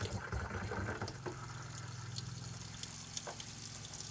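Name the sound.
water running from RV faucet, air sputtering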